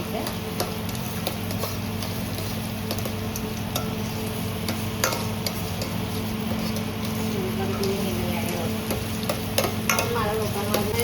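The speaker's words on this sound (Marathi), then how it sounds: "कांदा थोडा पिंकिश झाल्यापर्यंत आपण ह्याला थोडंसं फ्राय करून घ्यायचं." Chopped onion frying in a pan, with a constant busy sizzle and frequent ticking stirs and scrapes, while a voice talks over it.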